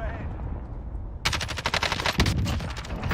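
Rapid automatic gunfire in the Warzone video game bursts in loud and close after a brief lull, a dense rattling stream of shots with heavy background noise throughout.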